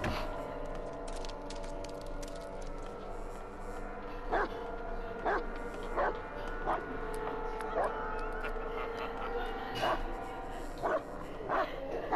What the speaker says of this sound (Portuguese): Será que ele tá latindo?